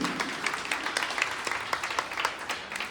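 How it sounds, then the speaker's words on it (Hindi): A crowd at a BJP women's wing (Mahila Morcha) gathering claps together, a dense steady patter of many hands with no talk over it. "तालियां बजाओ अपने इस सम्मान के लिए।"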